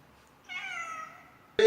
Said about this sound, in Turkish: bir de misafir kediciğimiz var